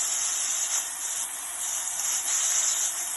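Green chilies and curry leaves crackle in hot cooking oil with chopped onions for a coconut fish curry, a steady bright hiss that holds close and even throughout with no talk.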